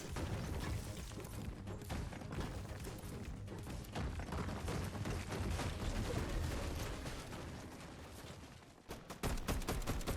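Rapid gunfire in a video game, dense bursts of shots rattling almost continuously with a brief pause near the end before more firing, loud and busy.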